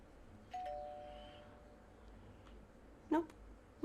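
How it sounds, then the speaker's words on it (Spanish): A doorbell in the video game LAKE chimes once with a soft sustained tone, then a brighter short ding follows near the end, quiet against faint background noise. "Toca el timbre."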